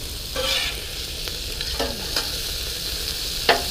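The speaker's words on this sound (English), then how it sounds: "All right, we're getting a nice little sear there." Vegetables searing on a flat top griddle, giving a steady close sizzle broken by a few scrapes and stirring clinks, with a sharp metallic tap near the end.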